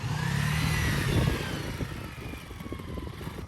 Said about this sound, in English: Now we're going to engine brake.